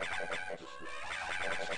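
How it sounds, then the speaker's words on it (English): Alien dogs in a kennel in the Half-Life video game, making busy squawking, clucking cries that overlap continuously at close range, like a crowded pen of agitated creatures. "that was a kennel full of alien dogs"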